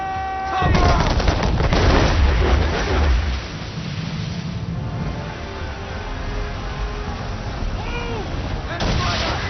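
Heavy cannon fire booms and rumbles through a naval battle in Assassin's Creed III, dense broadband blasts loudest early, then continuing in a lower roar with shouted commands and voices over it.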